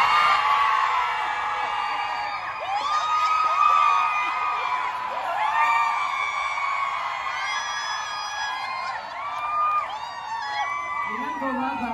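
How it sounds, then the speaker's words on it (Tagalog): Large concert crowd screaming and cheering continuously, dense shrill yells and whoops at high, steady volume, with voices shouting throughout. "Video po sa pinakamalakas po sumigaw, may Brandon."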